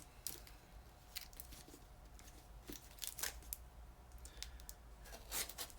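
Tape being cut and torn open on a taped-up Orion Knives Solaris knife package: faint, irregular clicks, snips and crinkles scattered over several seconds, with no voices.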